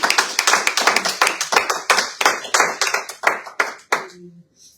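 A church congregation claps at a service in quick, loud, close claps that start rhythmic and thin out. The claps fade into a few scattered hits and a faint voice at the end.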